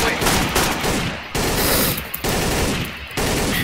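Rapid gunfire in the video game Garry's Mod, loud dense bursts of automatic shooting that pause briefly and resume in several volleys.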